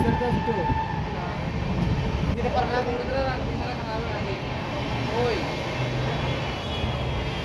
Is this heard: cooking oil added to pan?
no